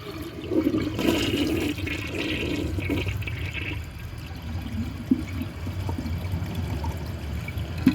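A toilet flushes weakly, with water rushing and swirling steadily at moderate volume, then trickling on without building to a strong gush.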